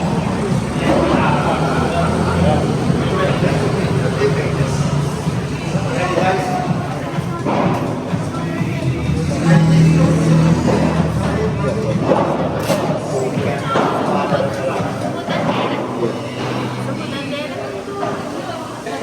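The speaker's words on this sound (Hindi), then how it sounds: "ओ काफ़ी भीड़ हो रखी है यहाँ पे।" Crowd babble at a busy padel tournament venue in Bali, Indonesia, a steady outdoor hum of many voices with some traffic noise, and a nearby voice talking over it.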